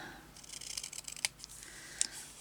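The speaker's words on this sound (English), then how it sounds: "I'm really getting carried away with the scissors." Scissors snip through leather for tiny handmade books, a string of soft close cuts with two sharper snaps, quiet and unaccompanied by talk.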